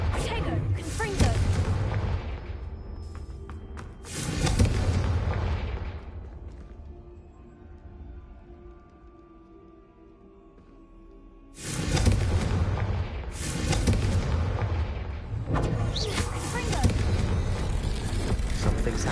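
Confringo blasting spells detonating in a Harry Potter video game, heavy booming explosions in long roaring bursts, a quieter lull in the middle, then more loud blasts, with a voice casting spells.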